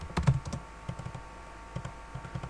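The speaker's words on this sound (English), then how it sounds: "I'm going to type in leaflet guide" Short burst of typing on a computer keyboard while building a Word template, a quick cluster of clicks followed by scattered lighter keystrokes, close and quiet, no voices.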